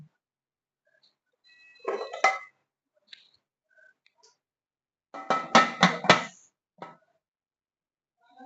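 A metal pan of chocolate brownie batter knocks and clinks against a cooking pot as it is set inside, two separate bursts of close metallic clattering with quiet gaps between.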